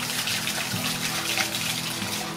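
Water gushes steadily from a hand-operated water wheel pump drawing from a deep river well, a continuous broad splashing rush up close with no voices.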